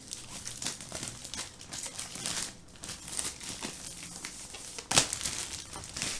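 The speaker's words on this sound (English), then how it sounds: "So this one's covered in plastic, so I will just cut a little bit." Plastic wrap on a reMarkable 2 tablet box crinkles and tears as it is cut open and pulled away, a steady run of close, dense crackling with one sharp rip near the end.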